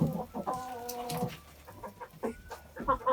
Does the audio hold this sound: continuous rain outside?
no